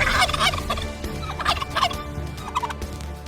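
Several heavily bred broad-breasted turkeys, each around 20 kilograms, gobble in a loud, continuous overlapping chorus of rapid warbling calls close by, with no talk.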